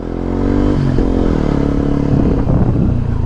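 A small Zontes 125 motorcycle ridden and braked, its engine buzzing loudly close up with harmonic revving that drops and shifts as it slows, followed by rougher clattering and scraping toward the end, with no talking.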